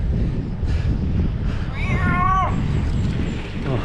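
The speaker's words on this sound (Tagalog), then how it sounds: "May pusa." A cat near a Philippine shrine gives a single short, clear meow partway through, heard over steady wind and outdoor background noise.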